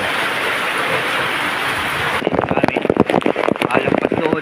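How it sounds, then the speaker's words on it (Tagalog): Heavy typhoon rain from Typhoon Carina roars steadily and loudly during flooding, then continues under a person talking nearby. "napakalakas ng ulan"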